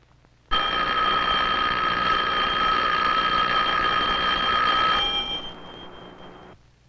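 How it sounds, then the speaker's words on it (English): An electric bell rings loudly and steadily for about four seconds, then stops abruptly as its metallic tone decays. "But when you ring the bell,"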